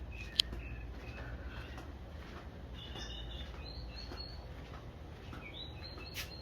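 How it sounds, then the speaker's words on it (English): Birds chirp and call outdoors from a veranda in Belize, with short scattered high-pitched notes, faint to moderate and fairly distant, over a steady low background rumble. "Can you hear the birds?"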